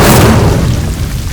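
A fiery spell cast in the Hogwarts Legacy video game bursts out as one dull boom with a short rumbling tail that fades over about a second, heard alone.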